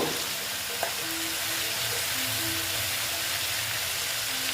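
Cumin powder sizzles in hot oil in a pan with bitter gourd and pumpkin, a steady, close frying hiss with faint stirring scrapes and a brief clink near the start.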